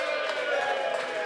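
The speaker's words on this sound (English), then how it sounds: "Big cheer, come on!" An audience at a live electronic music event cheers in a brief, steady roar of mixed voices, a dense crowd wash that holds at a constant level without pause.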